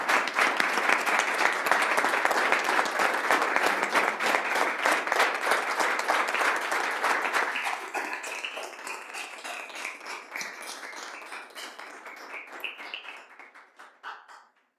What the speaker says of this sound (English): please join me in a round of applause in recognition of Michael Ford